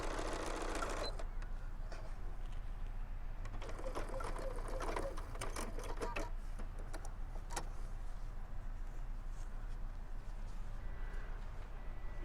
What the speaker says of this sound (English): I've got this going pretty slow because I don't have the foot pedal on.